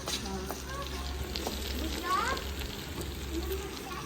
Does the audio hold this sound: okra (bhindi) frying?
yes